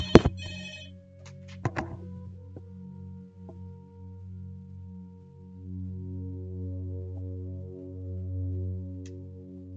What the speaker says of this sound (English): Sorry about that phone going off there.